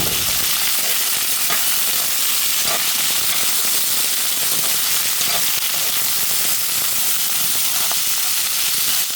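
Fresh vegetables with chili and salt sizzling and frying in a hot pan, a loud, constant hiss with scattered crackles and pops throughout, no voices.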